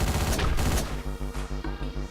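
Rapid bursts of gunfire from Hotline Miami on PS3: a dense, loud volley of shots, then a run of evenly spaced heavy blasts.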